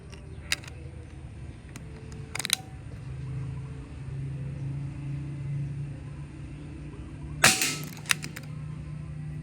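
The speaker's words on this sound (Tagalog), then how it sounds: "Third shot using Astro." A Red Tactical Falcon PCP air rifle firing Astro pellets gives several sharp snapping shots, the loudest near the end, over a steady low rumble.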